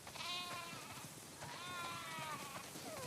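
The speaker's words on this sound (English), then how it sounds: "Listen up, sheep. Your dinner awaits you in the barn" Several sheep in The Last of Us Part II bleat in overlapping wavering calls, a few cries in a row over soft background noise, with no talk.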